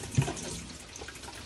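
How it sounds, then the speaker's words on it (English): A motorhome toilet in a Chausson Welcome 610 flushes at the push of a blue button, a short rush of water running into the bowl, close and moderately loud, with no talk over it. "if you give it a good flush with a blue button"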